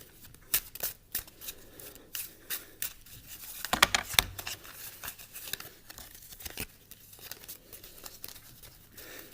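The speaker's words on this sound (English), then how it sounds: "you're going to have the spectator shuffle the cards" A deck of playing cards is riffle shuffled, giving quick, close, crisp bursts of fluttering card flicks, with the sharpest burst about midway.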